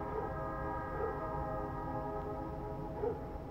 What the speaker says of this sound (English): If you hear a train horn like that